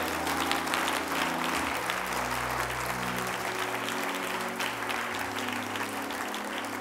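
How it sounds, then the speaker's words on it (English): A church congregation claps their hands to the Lord in a sustained, dense burst of applause that fills the room, steady and loud throughout, with a low musical hum beneath and no clear speech. "Can we clap our hands to the Lord today?"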